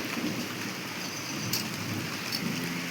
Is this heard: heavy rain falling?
yes